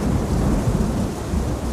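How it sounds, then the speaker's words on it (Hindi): Cartoon thunderstorm with wind, heavy rain and thunder: a loud, unbroken roar of downpour with rolling low thunder rumbling beneath, filling the whole moment without any voice. "तभी अचानक से हवा चलने लगी और बहुत तेज बारिश होने लगी और बिजली गरजने लगी"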